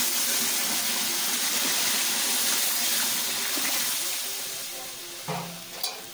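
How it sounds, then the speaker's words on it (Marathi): Heated water hisses into a hot frying pan, a strong sizzle that gradually dies down, followed by a couple of soft knocks. "आता त्याच्यामध्ये पाणी घालूया"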